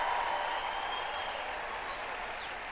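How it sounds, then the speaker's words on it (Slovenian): Steady applause from a large church audience at a Christian preaching event, dense and continuous throughout with no speech, fading slightly toward the end. "Velik aplavz."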